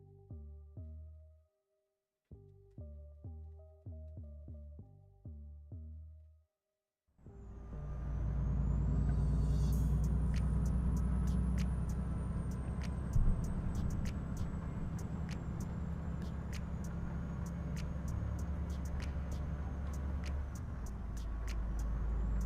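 A heavy truck drives in Euro Truck Simulator 2, its engine droning loud and steady with rumbling road noise, a rising whine and repeated sharp clicks, after a few seconds of music-like stepped tones.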